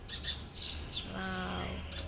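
Small young sparrow giving a few short high chirps close by, followed by a longer harmonic call, heard alone with faint background noise.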